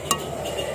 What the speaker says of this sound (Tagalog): And then haluin natin konti.